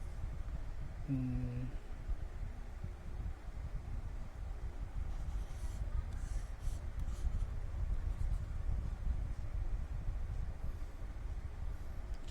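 A pen writes on a tablet, making a faint, steady scratching that continues almost without a break. A short tonal blip sounds near the start. No one speaks.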